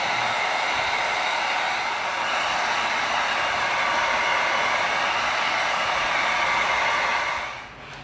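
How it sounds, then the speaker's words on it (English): A heat gun blows hot air onto EVA foam while helmet pieces are shaped over a styrofoam ball, giving a steady, loud whooshing hiss that holds for about seven seconds before tapering off at the end. "we're going to get our heat gun out"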